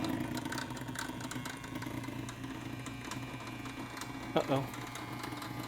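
Seeburg 1000 BMU10 background music unit with its drive motor spinning, a steady mechanical whir and hum running throughout, with a brief spoken exclamation near the end.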